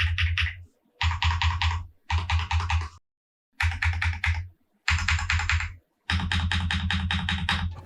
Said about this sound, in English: You want a sound test real quick?